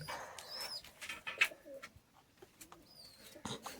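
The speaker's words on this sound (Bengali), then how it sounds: "দেখুন এখানেও একজোড়া খেলা গিরিবাজ আছে, এরাও ডিমে বসে আছে" Giribaz pigeons in a loft, some sitting on eggs, giving soft, close, intermittent coos and rustles in an otherwise quiet space.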